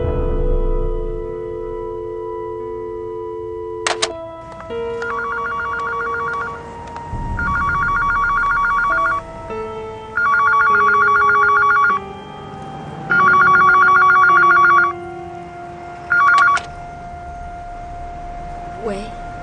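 A telephone in a drama scene rings in repeated electronic bursts, about five rings separated by short pauses, loud and close, with a low sustained tone and faint background sounds beneath.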